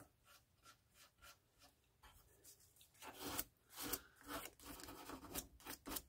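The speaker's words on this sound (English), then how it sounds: "So use some sandpaper. Clean it up." Sandpaper scrubbing dried glue residue off a 1/200 scale Yamato model ship hull, quiet rhythmic rasping strokes, soft and sparse at first, then faster and louder back-and-forth rubbing up close.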